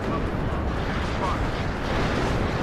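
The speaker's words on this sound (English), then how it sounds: "Oh, another artillery barrage, I think." Artillery barrage explosions in the video game WARNO, a continuous rumbling roar of blasts blending into one another, with talk heard over it.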